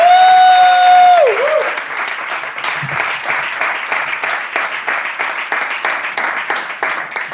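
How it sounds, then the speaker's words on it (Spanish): Loud studio audience applause breaks out after a short tonal musical sting, settling into steady dense clapping that carries on throughout. "Un fortísimo aplauso para Toni Lomba, amigos."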